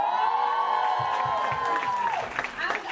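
Crowd clapping and cheering at a Teachers' Day celebration, a dense wash of applause with shouts rising toward the end, heard beneath a person talking and a sustained tone.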